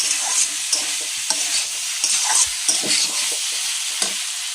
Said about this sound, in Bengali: এখন আমি পনিরটা দিয়ে নাড়াচাড়া করে গরম জল দিয়ে দেবো।